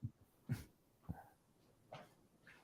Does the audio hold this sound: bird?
no